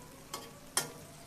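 Small skin-on potatoes frying in a pan, heard as a faint steady sizzle with two brief louder scraping stirs.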